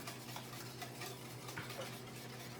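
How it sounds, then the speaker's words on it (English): A sweetener mixture of sugar and monk fruit is stirred in a pot over medium heat, a faint, steady scraping and swishing of a spoon with soft low-level background noise. "So we're going to get this all stirred together."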